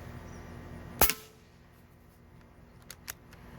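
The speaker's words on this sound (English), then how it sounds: "I'm gonna shoot the gas can." An Umarex Origin pellet rifle fires once at a gas can outdoors, giving one sharp, loud crack followed by a couple of faint, light clicks a couple of seconds later.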